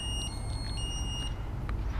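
CycloTrac GPS bike security alarm emitting a quick series of thin, high electronic beeps over a low background hum, fairly faint and close.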